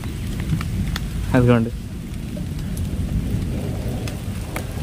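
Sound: thunderstorm with heavy rain

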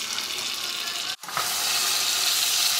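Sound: shrimp cooking in a pan

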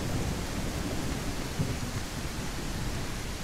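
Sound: rain and thunder in the video game Native Hunter

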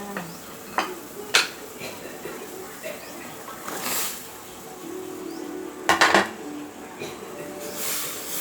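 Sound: vegetables stirred in cooking pot

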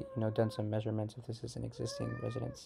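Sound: cat meowing

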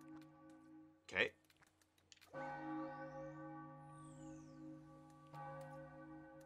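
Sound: bell ringing in the video game Super Mario Odyssey

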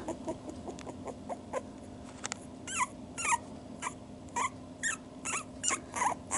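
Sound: puppies whimpering

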